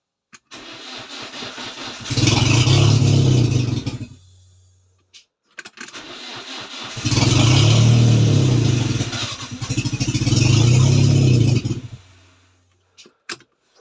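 A turbocharged BMW 316 car engine, shown with a new downpipe fitted, starts and runs close by with two loud revving surges. It cuts out and restarts between idle stretches, with no speech.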